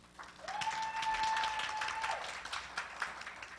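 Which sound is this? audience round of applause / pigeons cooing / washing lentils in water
audience round of applause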